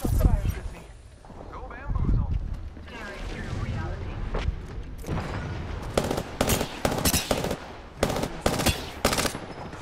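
Gunfire from two squads fighting in Apex Legends: bursts of rapid automatic fire and scattered single shots, some distant and some close, with booming impacts, growing denser toward the end under a player's talking.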